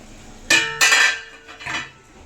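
A metal lid set down over a pot of mutton cooking on a gas stove for Punjabi mutton curry, giving two sharp close clanks and a softer clatter a moment later, with no talk.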